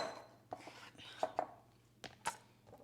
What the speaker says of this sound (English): Anyway, chopping, chopping, chopping.